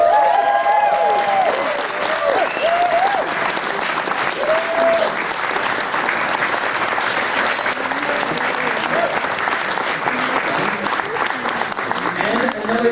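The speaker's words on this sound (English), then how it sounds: "Please welcome with a big round of applause" Audience applause welcomes a guest on stage at a Halloween horror event Q&A, a dense steady clapping from a large crowd that holds for the whole stretch with a few cheers and scattered voices mixed in.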